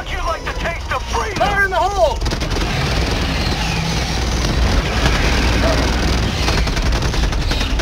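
Gunfire and a grenade blast in the shooter game Helldivers 2, with sustained loud rattling shots over a constant battle roar, while shouting voices overlap the opening seconds.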